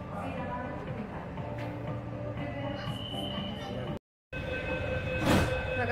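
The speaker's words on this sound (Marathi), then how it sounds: "बघा दरवाजे लॉक झालेले आहेत आणि आपली मेट्रो आता स्टार्टच झालेली आहे." A Pune Metro train starts to move with a steady, rising motor hum and rumble heard from inside the carriage, with a short break partway through.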